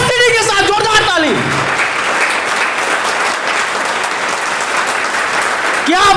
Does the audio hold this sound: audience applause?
yes